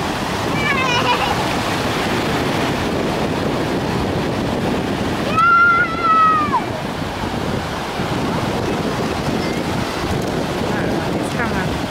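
Ocean waves washing up on a beach, with continuous surf and wind rush close to the microphone and a brief high squeal partway through as people talk over it.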